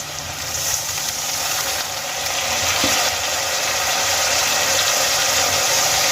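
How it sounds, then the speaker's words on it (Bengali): A splash of water hits ground spices frying in a pan with chopped tomato for a Bengali-style fish curry, setting off a steady broadband sizzle that swells slightly and then holds, with no talking. "যাতে করে গুঁড়ো মশলাগুলো পুড়ে না যায় আমি এর মধ্যে দিয়ে দেবো সামান্য জল"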